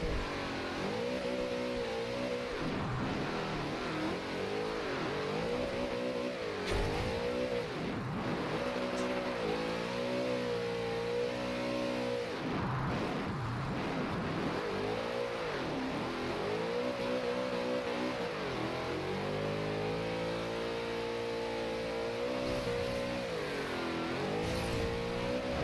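A car engine in Forza Horizon 2 revs hard under throttle, its pitch repeatedly sweeping up and dropping back through gear changes in a loud, continuous drone with no talk.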